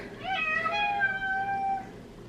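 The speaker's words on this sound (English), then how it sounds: "Hey, pretty cat." A cat meows once in a long, drawn-out call, fairly close and clear, with no talking over it.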